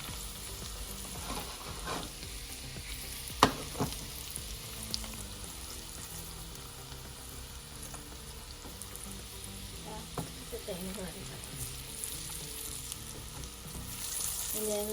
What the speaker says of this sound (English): Sauteing the garlic,